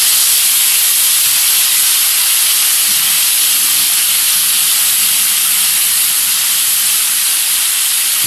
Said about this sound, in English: Just pour on top of our lamb chop. See how it sizzles up.